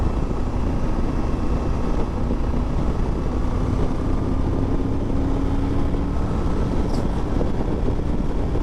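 A Triumph Tiger 900 motorcycle is being ridden, a dense, steady engine drone and road and wind roar filling the whole stretch at close range with no break.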